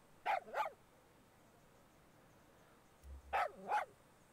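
A dog in the Far Cry 6 video game barks twice in quick pairs, a doubled bark near the start and another doubled bark about three seconds later, clear over a quiet background.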